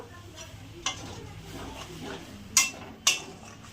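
Ground masala paste thinned with a little water is stirred in a pan, a soft sizzle and scraping running under three sharp clinks of the spatula against the metal.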